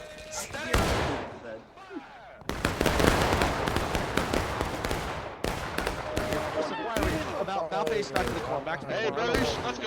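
Musket volleys crack in a multiplayer Civil War–style battle game, sharp overlapping bursts and scattered single shots close and far, with a commentator speaking over the gunfire.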